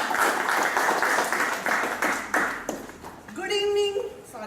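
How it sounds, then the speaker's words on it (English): Audience applause at a Toastmasters meeting comes as a run of quick, rhythmic claps at moderate loudness. It tapers off as a brief ringing tone sounds near the end. "With a big round of applause, I like to invite table toy master,"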